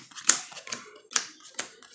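Trading cards from a Kozmo Virus Demise deck being shuffled at a local tournament, heard as four short crisp riffling bursts in a steady rhythm, close and fairly quiet, with no talk.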